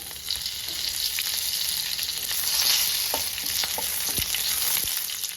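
Fenugreek seeds, dried red chillies and curry leaves fry in hot oil for a Kerala padavalanga thoran, giving a steady, close sizzle with a few sharp pops and light clicks of stirring throughout.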